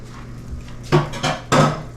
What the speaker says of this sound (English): I'm going to set this pan aside